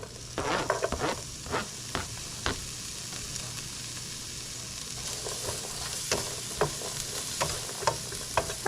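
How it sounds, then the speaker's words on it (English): Onions sautéing in a pan give a steady close sizzle and crackle, broken by occasional scraping stirs and clinks of a utensil, with no voices. "we're just going to saute the onions until they're fragrant"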